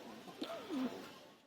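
Racing pigeon giving a single soft, low coo, faint and close against quiet background.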